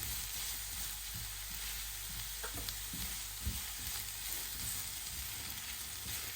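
Mutton sukka ingredients frying in a pan, with a steady soft sizzle running throughout and occasional light stirring scrapes close by.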